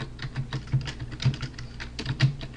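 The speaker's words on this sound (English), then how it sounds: "I'm actually going to go ahead and type the text for the links for this" Quick, close clicking keystrokes on a computer keyboard as link text is entered for a web page, an uneven patter of taps and heavier key presses with no talking.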